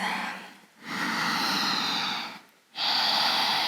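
Two long, deep yoga breaths drawn and released while folding forward in a hip-flexor stretch, each a soft airy rush lasting a couple of seconds, separated by a brief quiet pause, close and clear.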